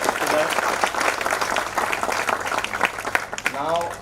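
An audience at the Cloud Community Days tech event in Bhopal claps for the speakers with sustained, dense applause, and a voice speaks over it toward the end.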